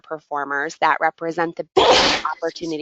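A single sharp, loud sneeze breaks into a presenter's steady talk during a coaching seminar, close by, with speech resuming right after.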